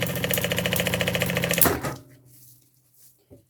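Sewing machine stitching the lining of a double-compartment thermal backpack, a rapid steady mechanical rattle of stitches that stops abruptly, followed by quiet handling sounds.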